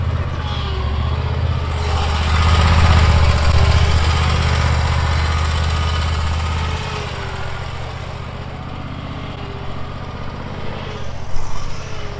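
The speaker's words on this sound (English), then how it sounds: "This is a stand-behind mower that's been retrofitted to now be an automatic on its own mower." Stand-behind lawn mower retrofitted to run on its own as a robotic mower, droning with a steady, loud low engine rumble that eases slightly partway through and then runs on at a constant idle-like hum, close by.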